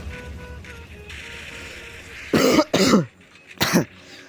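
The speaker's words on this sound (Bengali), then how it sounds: "আমাকে কিন্তু কাশি ধরছে" Three sharp coughs close to the mic, two in quick succession and one after a short pause, following a stretch of quiet room noise.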